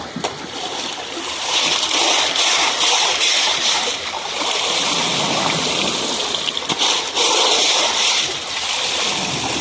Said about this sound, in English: I don't normally rinse my tailings off like that